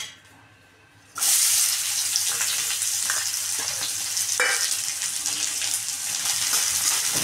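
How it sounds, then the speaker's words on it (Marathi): Onion frying in a pan breaks into a loud, continuous sizzle after a brief quiet start, holding steady and close with occasional small pops and no talking. "म्हणजे तळून घ्यायचा आहे कांदा."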